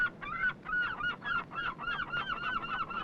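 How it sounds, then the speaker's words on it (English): Loud, continuous honking calls of a large flock of seabirds sanctuaried on the islands of Strangford Lough, many overlapping cries in rapid succession with no pauses. "A quietness to this day broken only by the cries of 1 million seabirds"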